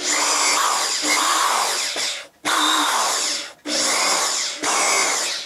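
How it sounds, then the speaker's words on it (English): A power drill whirs loudly in four long bursts, each cut off by a brief pause, with a rough grinding edge as it bores holes into MDF. "let me drill the holes on this"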